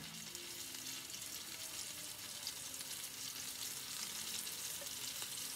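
Shrimp for fajitas fry in hot oil with a steady, bright crackling sizzle that holds evenly throughout, close and alone with no talking.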